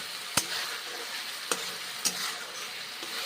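Spice paste sizzles steadily as it is stir-fried in a pan for a mixed vegetable curry, with three sharp spatula clacks cutting through the constant frying hiss.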